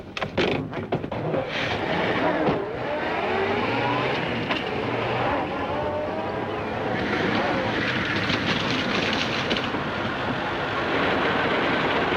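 A tractor engine drones and rattles steadily throughout, close and loud, while people talk over it, in a 1936 film.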